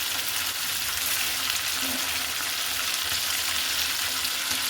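Beef and chicken pieces fry in a pan with a steady, dense sizzle that holds evenly from start to finish, close and fairly loud.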